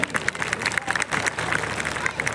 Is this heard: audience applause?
yes